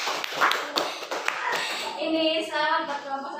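Schoolchildren in a classroom clap their hands for a winning quiz group, a burst of uneven claps at the start, then a teacher's voice talking over the fading applause.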